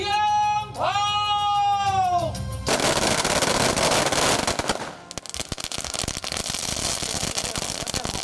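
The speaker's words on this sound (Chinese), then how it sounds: "鞭炮，" Firecrackers burst in a rapid, dense crackling string at a temple groundbreaking ceremony, following a few seconds of a sustained tonal voice or instrument.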